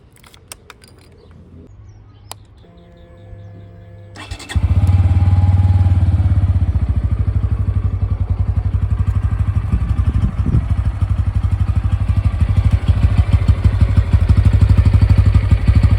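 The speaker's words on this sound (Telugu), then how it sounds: "ఇప్పుడైతే ఈ బైక్ని స్టార్ట్ చేసి సౌండ్ బీట్ ఎలా ఉందో చూద్దాం" A Bajaj Pulsar N160 motorcycle comes to life after a few faint clicks, firing up at once and then settling into a loud, steady, throbbing idle recorded up close, with no talking.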